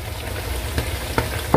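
Shallots drop into a hot frying pan where conch is cooking, giving a steady close sizzle with a few brief crackling pops.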